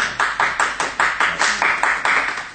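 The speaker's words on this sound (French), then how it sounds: "Applaudissez là." About ten rhythmic hand claps in an even, steady beat, close and fairly loud, with no talk over them.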